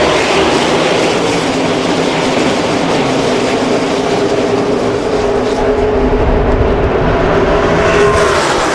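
NASCAR stock cars roll two by two toward the green flag at Talladega in 2009. Their engines make a steady, loud, dense roar that fills the whole stretch and grows heavier near the end, with no voices over it.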